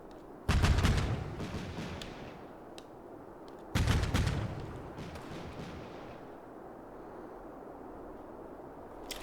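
Artillery cannons firing in the war video game Combat Mission: two heavy booming shots a few seconds apart, each a loud sharp blast trailing into a long rumbling decay, with a lower background din between them and no talk.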